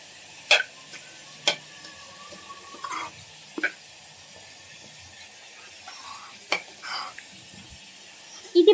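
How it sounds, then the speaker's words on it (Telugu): Masala curry being stirred in a pan until the oil rises, heard as scattered scraping and tapping strokes of a spoon against the pan over a faint background. "ఆయిల్ పైకి వచ్చేదాకా కదుపుతూ ఉండాలి మధ్య మధ్యలో"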